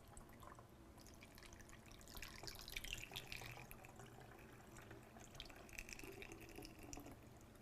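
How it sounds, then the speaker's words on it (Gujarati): Water poured from a cup into a bottle: a very faint, continuous trickle and splashing of liquid across several seconds, quiet and close. "અને ત્રીજો કપ પાણી પણ બોટલમાં રેડું"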